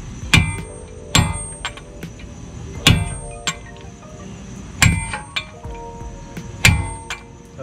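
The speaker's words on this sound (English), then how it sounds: "This time we're gonna use a bigger hammer." Heavy metallic blows from a big hammer land one after another at uneven intervals while changing brakes on an Acura MDX, each sharp strike ringing briefly before the next, close and loud.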